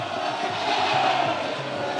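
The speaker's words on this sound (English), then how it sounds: "you can hear the crowd singing McGreevy." A large indoor crowd roars steadily at a Rajadamnern World Series Muay Thai fight, with a rhythmic chant of fighter Niall McGreevy's name rising through the din, dense and continuous, heard from within the arena.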